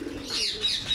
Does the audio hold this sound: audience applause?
no